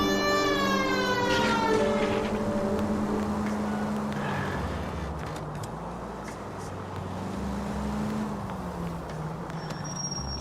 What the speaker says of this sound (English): Why are you putting the siren on?